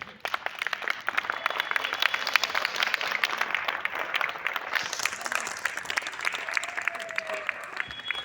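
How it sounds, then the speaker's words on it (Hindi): Standing audience applause at a welcome ceremony in Ranjit Nagar, a dense steady wash of many hands clapping for the full stretch, moderately loud and without talk. "एक बारी मेरे बड़े भाई के लिए सम्मान स्वरूप खड़े होकर एक बारी ताली बजा दीजिए"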